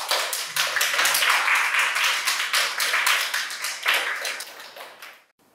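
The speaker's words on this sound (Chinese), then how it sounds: "让我们掌声鼓励，欢迎我们新一任的班长" A class of students claps to welcome their new class monitor, a brisk, close round of applause with distinct individual claps that thins out and stops abruptly near the end.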